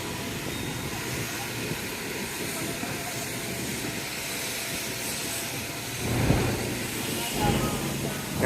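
A Vancouver SkyTrain at City Centre Station gives a steady, broad rumble and hiss throughout, with a louder surge of rolling noise near the end.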